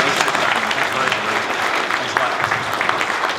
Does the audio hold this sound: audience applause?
yes